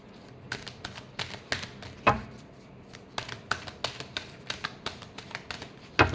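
Tarot cards shuffled by hand during a card reading, heard as a fast run of crisp papery snaps and flicks in irregular bursts, fairly close and quiet, with no speech.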